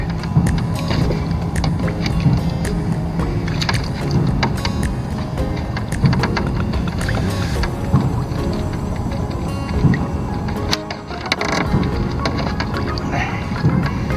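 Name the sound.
water running through a highbanker spray bar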